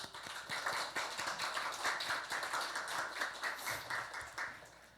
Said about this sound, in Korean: 감사와 영광의 박수를